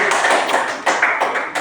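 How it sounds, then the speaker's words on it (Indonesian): Classroom applause for a student group, a short burst of clapping from several children, loud and close with uneven rhythm. "Sudah tepuk tangan untuk kelompok 2."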